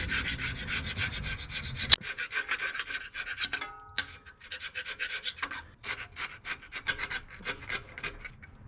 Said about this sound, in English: Then we're going to use our super scraper and get her prepped here.